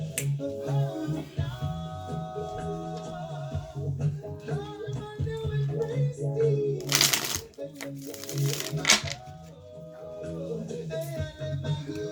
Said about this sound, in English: Shuffle these cards up